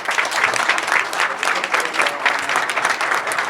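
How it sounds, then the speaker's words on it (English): Steady applause from a crowd at a youth entrepreneurship competition, dense clapping that holds at an even level throughout without pause. "just give yourself a round of applause"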